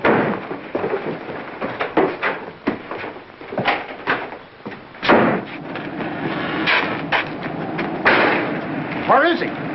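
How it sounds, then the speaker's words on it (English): Sharp knocks on a kitchen door in a 1945 mystery film scene, several irregular thuds spread through the stretch with people talking over them. "Someone's knocking. Kitchen door."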